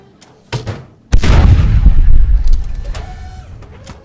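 CSD battlecannon firing in Space Engineers: a short sharp report, then a heavy, loud boom that rumbles and decays over several seconds, with no talking.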